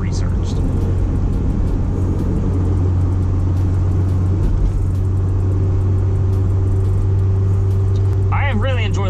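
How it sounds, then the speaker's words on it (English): A Honda S2000 on a spirited drive, with a steady low engine drone and clutch buzz filling the cabin at constant loudness, plus a brief higher whine near the end. "I think it's clutch buzz."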